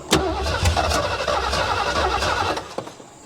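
A 1973 Ford Mustang Mach 1 engine cranks and fires with a sharp catch, then runs roughly for a few seconds at a rumbling idle before fading, heard close up.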